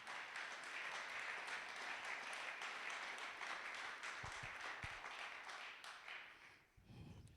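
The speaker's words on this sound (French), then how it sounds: "Est-ce qu'on peut acclamer pour Jésus?" A church congregation at a Sunday worship service fills the room with steady, sustained applause for Jesus. The clapping fades near the end as a voice and other sounds come in.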